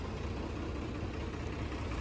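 A tractor engine idles nearby with a steady, low, rumbling drone that holds an even loudness throughout, with no voices.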